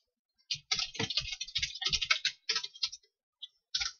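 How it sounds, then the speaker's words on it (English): Bursts of clicky keyboard typing, close and fairly quiet, with short pauses between flurries of keystrokes and a few isolated taps near the end. "My typing's a bit off because I'm using a different keyboard"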